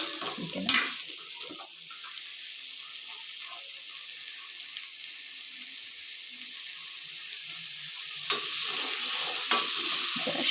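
Ridge gourd shallow frying in oil for chutney, giving a steady, moderate sizzle throughout with a few brief scraping stir clicks near the start and end.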